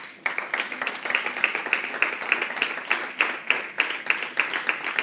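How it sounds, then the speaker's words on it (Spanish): A church congregation at a Sunday service breaks into steady, rhythmic group applause, many hands clapping together in a roomy space, sustained and fairly close. "Dale un aplauso al Señor"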